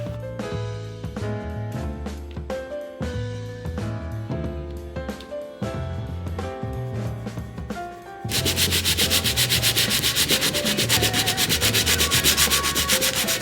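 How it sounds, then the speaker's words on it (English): Oak wood from an old desk being sanded: a steady, loud abrasive rasp that fills the second half, with tonal music running underneath the whole time. "just giving it a good sand"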